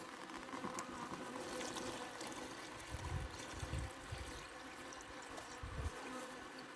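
Honey bees buzz softly around a feeder while sugar liquid is poured in, a faint steady hum mixed with light trickling and a few low thumps.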